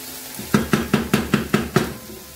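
Risotto ingredients fry in a pan on a hob at about three-quarters heat, a steady sizzle under a run of seven evenly spaced scraping stirs, close and fairly loud, with no talking.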